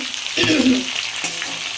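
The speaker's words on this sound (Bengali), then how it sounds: "এই কড়াইতে আমি আলু ভেজে নেব" Potatoes frying in a kadai in a home kitchen, a crackling sizzle with a brief stirring scrape near the start and another soft clatter later, moderately close and without talk.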